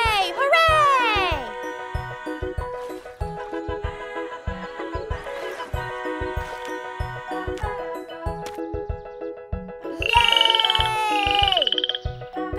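A cartoon frog croaks in bright, bouncy bursts over a plinking children's-show music bed, with a child-like voice joining in and sliding cartoon squeaks at the start and near the end.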